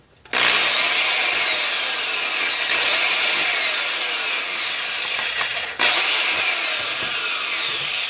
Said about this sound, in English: I'd rather just drill the hole.